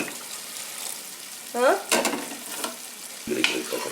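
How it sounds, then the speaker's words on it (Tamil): A spoon stirs and scrapes through thick gravy in a frying pan over a steady sizzle, with a few louder scraping strokes. "இப்போ வந்து எல்லாம் சேர்த்து நல்லா கலக்கி விட்டுக்கலாம்"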